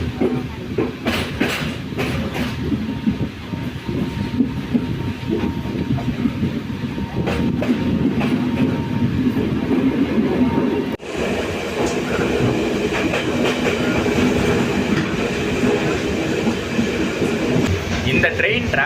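The Colombo–Trincomalee night mail train in Sri Lanka rumbles steadily along the track, with rhythmic clickety-clack of wheels and carriage rattle from inside the coach, and people talking over the noise.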